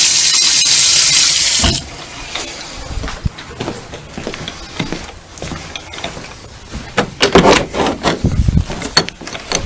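Shower water from a tankless water heater setup with a three-knob manifold runs loudly in a steady hiss at first, then the flow drops and gives way to softer splashing and handling noises nearby.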